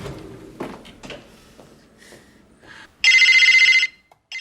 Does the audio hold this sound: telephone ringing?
yes